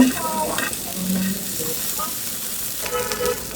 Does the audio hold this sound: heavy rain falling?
no